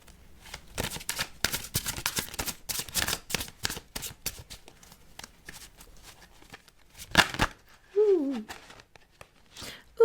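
Tarot cards being shuffled, a rapid run of crisp riffling slaps for about seven seconds, followed by a couple of softer card sounds and a brief voice.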